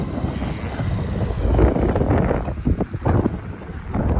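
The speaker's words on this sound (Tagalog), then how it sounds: "Lumakas nga naman ang hangin." Strong wind at a seaside beach roars and buffets the microphone continuously, loud and rumbling with gusty surges throughout.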